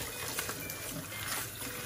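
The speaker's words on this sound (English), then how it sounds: "you have the cold water running on it" Cold tap water runs steadily from a kitchen sink faucet onto a head of cabbage being prepared for kimchi, a continuous close hissing splash with no talk.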